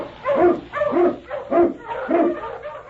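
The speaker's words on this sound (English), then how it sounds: "King, the swiftest, strongest of Eskimo lead dogs, blazes the trail through storm and snow for Sergeant Preston" Eskimo lead dog barking in an old-time radio drama, four loud, evenly spaced barks close to the microphone with a faint whine between them.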